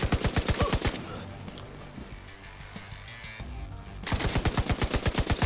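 A machine gun fires from an elevated position in the video game Division 2, with rapid, evenly spaced shots in a loud burst, a quieter gap, then another sustained burst.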